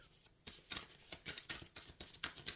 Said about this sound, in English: shuffling for Pisces for the concluding message